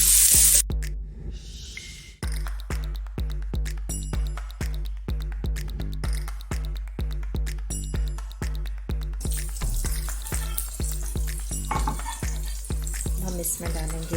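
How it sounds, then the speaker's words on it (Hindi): Stuffed pepper filling being fried with spices in a pan for a capsicum recipe, a steady close sizzle broken by regular rhythmic stirring scrapes throughout, with no voices. "मसालों के साथ इसको अच्छी तरह से हम भून लेंगे"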